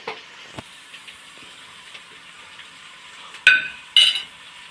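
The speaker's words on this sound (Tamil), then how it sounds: "இப்போ இந்த எண்ணெயோட நல்லா பீஃபை போட்டு வதக்குங்க" Beef with roasted masala and chili powder frying in oil, a faint steady sizzle broken by a few light clicks and two louder scraping stirs near the end.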